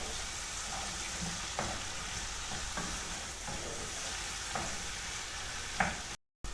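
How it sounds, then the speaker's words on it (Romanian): Diced tomatoes fry in a pot for lentil cream soup, a steady soft sizzle broken by a few sharp scrapes of a spoon as they are stirred now and then. "Apoi adăugăm roșiile cuburi. Mai lăsăm 2 minute amestecând periodic."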